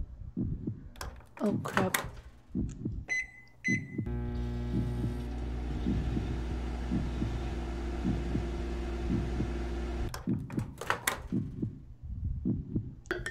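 A low, throbbing heartbeat from the character Samantha Browne in the video game The Average Everyday Adventures of Samantha Browne, pulsing under a loud, steady microwave hum in the middle stretch, with a person talking over it before and after.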